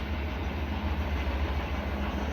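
A freight train with grain hopper cars rolls by, a steady low rumble with faint rhythmic clatter of cars on the rails, no talking.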